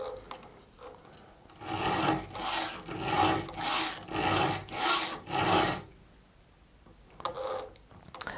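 A hand file rasps across the teeth of a Stihl GTA 26 saw chain in five steady, even strokes, close and fairly quiet, then a brief pause and a couple of lighter scrapes.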